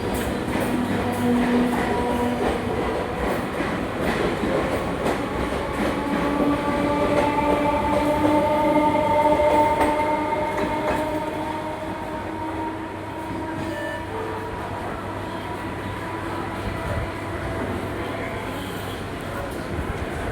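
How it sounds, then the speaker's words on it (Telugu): A passenger train at Chennai's Park railway station, bound for Marina Beach, rumbles steadily and loudly throughout, with a long swell of wheel and carriage noise and whining tones, under faint platform chatter. "బీచ్కి వెళ్ళే ట్రైన్ ఇది"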